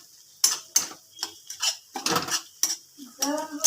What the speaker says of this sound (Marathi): कांदा छान असा गोल्डन कलरमध्ये आता परतून घेतोय आपण.